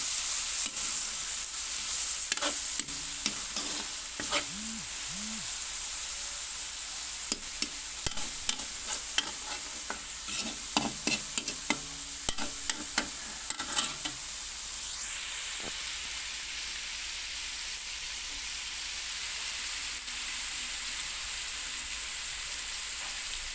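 Tomatoes fry in a pan for pork alamang with a steady high hiss of sizzling, while a utensil stirs and taps against the pan in repeated clicks and scrapes.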